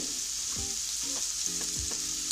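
Egg bhurji with masala powder and turmeric frying in a pan gives a steady bright sizzle, broken by a few soft scraping stirs of a spatula against the pan, with no talking.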